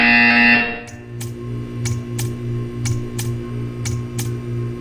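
A buzzer in the Portal 2 test chamber sounds in a series of sharp, evenly spaced bursts, about eight in a row, following a brief louder tone at the start, over a steady low hum.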